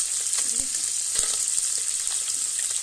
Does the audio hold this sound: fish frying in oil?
yes